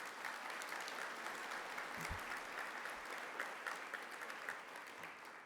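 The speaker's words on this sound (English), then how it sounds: "Let's give Dr. Murphy another cheer" A conference audience at a keynote address claps steadily for the full stretch, a dense, even wash of hand claps with no one speaking over it; any cheering is not distinct.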